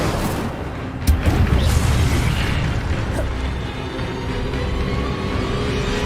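An Incendio fire spell bursts in Hogwarts Legacy combat with a loud whooshing boom, followed by a sustained roaring rumble of flames and battle noise.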